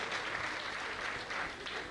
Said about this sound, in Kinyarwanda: mu mukomera amashyi